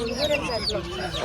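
A rooster clucks in short, throaty bursts close by, with people's voices and bustle around it at a rooster market in Mamidada, Kakinada district.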